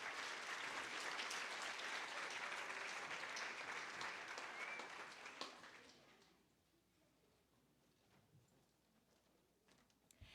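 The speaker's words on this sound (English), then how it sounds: "Give a nice round of applause to Kylie and McKenna Hack." A school audience claps for two young performers at a second-grade musical at Indian Hill Primary, a dense round of applause lasting about five seconds before thinning to scattered claps and quiet room noise.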